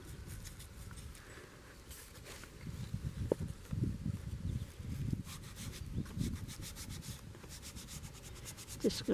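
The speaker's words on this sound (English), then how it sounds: "Just gonna rub the leaf on there." Black-eyed Susan leaf rubbed onto paper in a nature journal, producing soft, close, irregular scratchy rubbing strokes that grow busier toward the middle.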